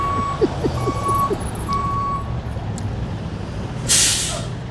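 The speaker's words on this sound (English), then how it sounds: "I'm telling the truck to come on back." A truck backs up with a few evenly spaced reversing beeps, then a sharp hiss of air brakes near the end, heard outdoors at moderate distance.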